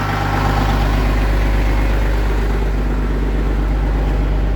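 Kenworth truck with a Cat engine idling after a cold start, a close, steady heavy diesel rumble with even low throb, alone and unchanging throughout.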